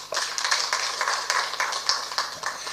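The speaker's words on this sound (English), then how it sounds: "Let's give him a clap as he goes back to his seat" Audience applauding after a presentation at a Sun King event in Ndola, a short burst of dense, steady hand clapping from a crowd, fairly close and without speech.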